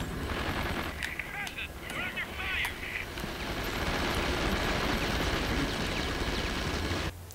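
Dense, continuous enemy gunfire from a shooter video game fills the whole stretch, loud and busy, with brief bright chirps layered over the rattle and a faint voice beneath.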